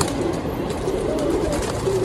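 Pigeons kept by a Punjabi pigeon fancier coo close by in soft, repeated, overlapping calls over a steady background wash.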